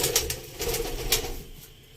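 Home breed pigeon chicks in a Lahore loft give soft, brief coos and rustling close to the microphone, a few short bursts over a quiet background.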